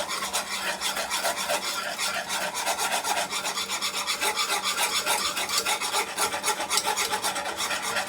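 Whisk or spoon scraping steadily through a bowl of powdered sugar and milk glaze, a fast continuous rasping rub with even rhythm, close and alone without speech.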